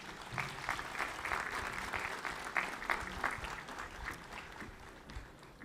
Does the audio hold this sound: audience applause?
yes